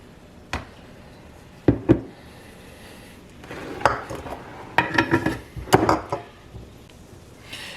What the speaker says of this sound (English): we're just gonna give that a mix and let the flour mixture combine with the beer